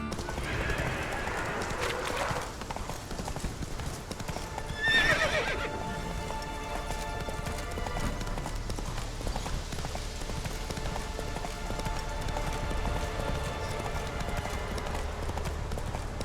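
In The Witcher 3, the horse Roach trots with a steady, rhythmic clip-clop of hooves close by, broken early by a short whinny, over a low outdoor background.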